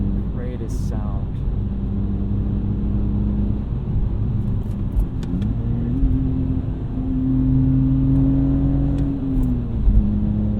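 A 2004 BMW E46 330xi with a muffler delete revs to around 4000 rpm under steady engine drone, the pitch climbing and holding before easing off, heard from inside the car.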